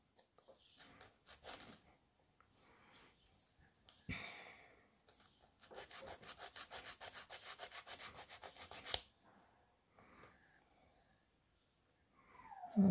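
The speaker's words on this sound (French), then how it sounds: "Je lime droit." Nail file rubbing across a fingernail while shaping an almond or Russian almond nail, a close, quiet rasping in short strokes, then a sustained burst of rapid back-and-forth filing lasting a few seconds before tapering off.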